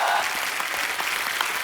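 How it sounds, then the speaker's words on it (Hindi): A studio audience applauds to welcome an actress onto The Kapil Sharma Show, a comedy talk-show set. The clapping is a dense, steady roar of many hands, loud and close throughout with no pauses. "आप सबकी जोरदार तालियों के बीच इनवाइट करना चाहूंगा"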